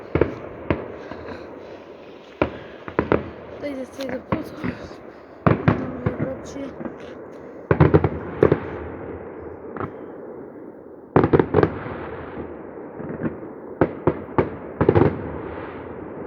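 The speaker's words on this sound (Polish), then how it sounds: "Słyszycie te fajerwerki." Fireworks bang and crackle in irregular bursts, some sharp and close, others distant, while people talk briefly in between.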